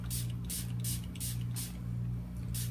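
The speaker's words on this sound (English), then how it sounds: "Spray everything again, get all the bubbles out of the top," Repeated short hissing bursts from a hand spray bottle misting the surface of melt and pour soap, about six quick sprays in steady rhythm over a constant low hum.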